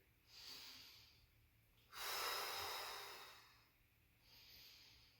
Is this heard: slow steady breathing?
yes